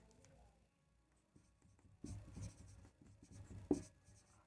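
Chalk or marker writing on a board during a physics lesson, a run of close, quiet scratching strokes and taps that turns busier and louder partway through, with no talk over it.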